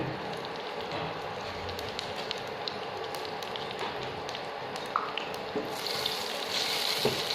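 Whole spices such as cardamom, cinnamon and cumin fry in a pan with a continuous fine crackling sizzle, close and even, with a few sharper pops and a brighter hiss toward the end.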